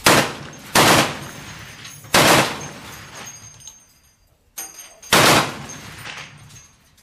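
A .50 caliber machine gun mounted on an M4A2E8 Sherman tank fires three loud, close bursts, each a rapid stutter of shots followed by a ringing decay, with short quiet gaps between bursts.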